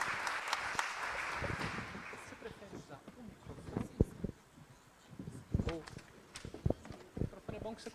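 Audience applause at a natural childbirth symposium, a brief burst of clapping that fades within a few seconds, followed by scattered knocks and people talking nearby.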